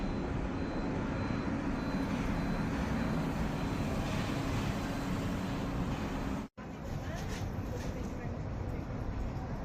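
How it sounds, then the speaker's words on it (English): A large airplane flies overhead near Denver International Airport, a broad, steady roar of jet noise that fills the clip with a brief dropout partway through. "Now that's a plane."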